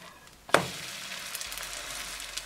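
French toast slice is laid into a hot pan, giving a sharp contact hiss followed by a soft, steady sizzle of frying at close range, quiet overall and without speech.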